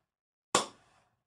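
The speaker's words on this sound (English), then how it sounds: "As opposed to the cupped hand, which is called the po." A single sharp cupped-hand clap, the Samoan po, rings out once, close and loud, with a quick hollow decay and no voices around it.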